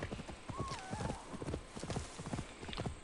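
Rhythmic clip-clop of horse hooves trotting steadily in the video game Assassin's Creed Valhalla, with a brief whinny partway through and faint ambient background.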